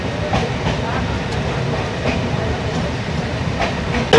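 A passenger train on the Kolkata to Sairang route runs steadily, wheels clattering in a continuous rhythmic rumble with periodic clicks, heard from inside the carriage.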